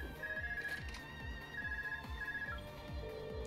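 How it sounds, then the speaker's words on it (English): A phone rings in the video game Trails of Cold Steel, sounding as repeated electronic trill bursts in a steady pattern over rhythmic background game music. "Phone call."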